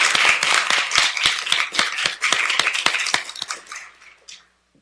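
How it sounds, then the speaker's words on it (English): Audience at a city council meeting claps together for a police officer, a dense run of sharp, close claps lasting several seconds before tapering off into silence. "If we can give Officer Cruz a big round of applause."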